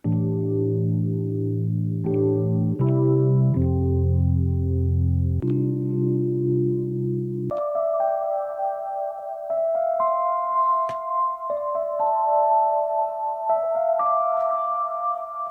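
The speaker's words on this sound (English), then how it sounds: "we got a few piano loops right here and we're gonna play it" A looped piano chord progression plays steadily in Pro Tools on an iPad, low sustained chords shifting to brighter, higher chords midway, with no one talking.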